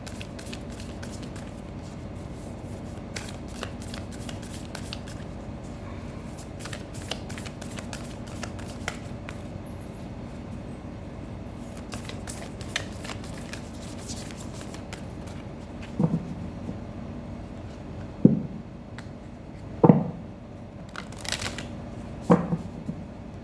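Oracle cards are shuffled by hand in a steady run of soft riffling and rustling taps for over twenty seconds, with a few sharper slaps and knocks toward the end, quiet and close, no voices.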